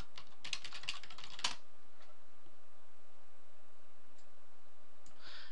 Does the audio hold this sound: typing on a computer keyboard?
yes